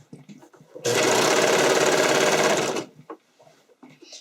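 A sewing machine stitches a stretch-fabric skating dress in one fast, steady burst of about two seconds, loud and close, with quiet speech just before and after.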